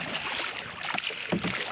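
A small wooden bangka being paddled on water, soft splashing strokes near the end over a steady background of wind and water.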